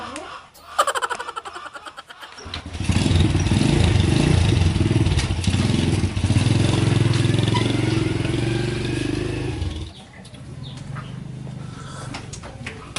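A motorcycle engine runs loud and close, holding a steady drone for several seconds before dropping away, with people talking and laughing around it.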